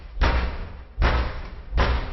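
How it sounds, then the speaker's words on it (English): Three heavy, evenly spaced thuds land on a front door, each a booming knock with a short decay, loud and close. "someone knocks on the front door"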